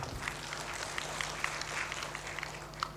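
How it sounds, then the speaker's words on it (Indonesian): Scattered applause from an audience at a university graduation ceremony in Lubuklinggau, Indonesia, a modest steady patter of clapping lasting a few seconds over a hum of room noise. "Tepuk tangan."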